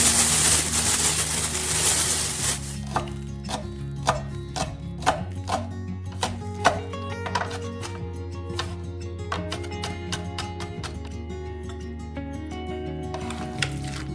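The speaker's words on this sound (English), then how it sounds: "I'm gonna chop them pretty finely here" A knife finely chops piquillo peppers and green onions, giving close, sharp, rapid taps in an uneven rhythm that start after a couple of seconds and continue over a faint steady tonal backdrop.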